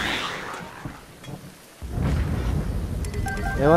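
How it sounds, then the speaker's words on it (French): Thunder rumbles during a lightning storm in Zelda: Breath of the Wild, a low roll building and swelling loudly in the second half over steady rain-like wash. "Il y a de la foudre qui se ramène."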